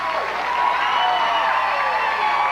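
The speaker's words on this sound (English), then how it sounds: "the fans are cheering her name here in Grand Rapids" Arena crowd at a 2005 PBA bowling final in Grand Rapids, Michigan, cheering for bowler Liz Johnson: a steady, dense roar of voices and clapping that holds loud throughout.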